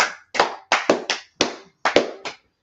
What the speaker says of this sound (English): Clap it up for them sisters right there.